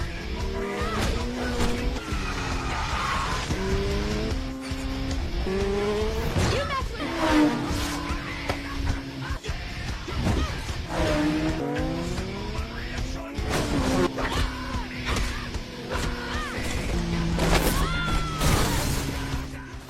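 Motorcycles race through a fight scene in the action film Torque, engines rising and falling in repeated revving sweeps, mixed with tire squeals and impacts, while a voice talks over the action throughout.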